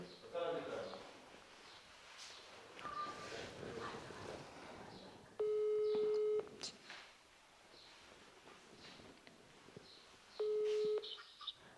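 Two long, steady electronic tones from a telephone being dialed and ringing out, each lasting about a second and spaced several seconds apart, sound under ongoing conversational talk.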